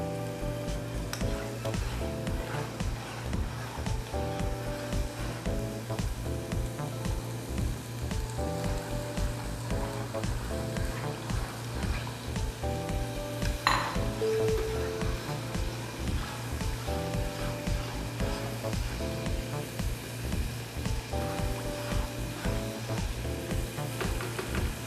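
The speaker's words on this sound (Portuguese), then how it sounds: "então você frita o bacon primeiro para depois colocar a linguiça" Bacon and linguiça sausage frying together in a pan, giving a steady, dense crackling sizzle that continues unbroken throughout, close by, with a faint low hum underneath.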